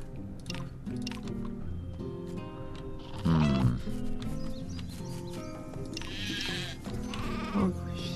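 Sheep bleating in the video game Craft the World, a few wavering bleats rising out of a steady game soundtrack, with one louder, closer bleat near the middle and another toward the end.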